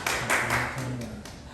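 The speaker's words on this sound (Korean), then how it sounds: "박수." Several quick rounds of hand clapping from a church audience, sharp bursts in an irregular rhythm close by, with a voice murmuring underneath.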